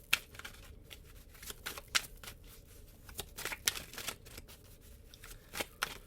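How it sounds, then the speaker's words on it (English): Cultural wisdom oracle cards being shuffled and pulled give soft, crisp riffling and flicking sounds in irregular bursts, close and quiet, with no talking. "we're going to pull some cultural wisdom cards here"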